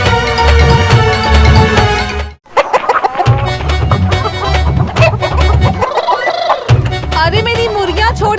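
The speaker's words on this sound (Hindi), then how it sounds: "कैसे पकड़ेगा इतनी सारी मुर्गियां?" A flock of chickens clucks in a lively, busy way in a period drama scene. Their squawks and clucks mix with voices and background music, broken by a brief pause partway through.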